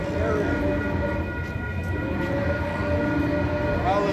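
A train rumbles past a farm field at sunset, a steady loud roar of rolling wagons with faint high tonal whines throughout, close by and continuous.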